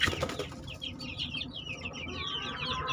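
Young chicks of a Bangkok fighting-chicken breed cheep and cluck in quick, overlapping high chirps, close and continuous over a low background murmur.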